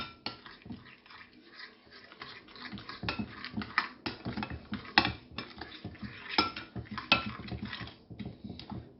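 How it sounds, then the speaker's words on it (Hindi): Russian salad being mixed with a spoon in a bowl after a quarter teaspoon of white pepper goes in, giving steady scraping and clinking against the dish with irregular louder knocks, close up and with no talking. "आप इसको अच्छी तरह मिक्स करें।"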